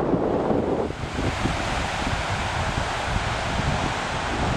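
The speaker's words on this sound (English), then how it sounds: "Light east wind." A light east wind blows over choppy green water on a fishing outing, a continuous broad rushing hiss with gusty fluctuations and wave wash.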